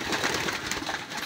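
Trained racing pigeons peck and eat in a flock, a dense continuous rustle of beaks and grain with soft cooing mixed in, close and fairly loud.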